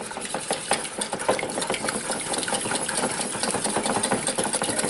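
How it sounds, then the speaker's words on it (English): A beaten egg being stirred into hot bacon dressing for a Pennsylvania Dutch dandelion dinner, with a steady busy scraping and whisking texture that runs throughout, close and fairly loud, no talking. "Then I add 1 beaten egg. And mix that."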